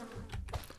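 A short, soft insect buzz from sleeping bees in the video game Dawn of the Mexica, faint and low, heard alone without talk.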